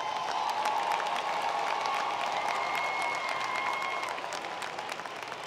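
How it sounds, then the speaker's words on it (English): A large commencement crowd gives a sustained round of applause, dense and steady throughout and tapering slightly at the end, with faint cheers mixed in. "Once again, a wonderful, rousing round of applause."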